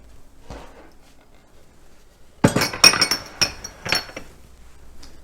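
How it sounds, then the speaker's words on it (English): Chopped scallions being scraped off a kitchen knife while making a Korean noodle salad, a quick series of sharp metallic clinks and scrapes against a board or bowl, close and clear in a quiet kitchen. "Get all my scallions off of my knife"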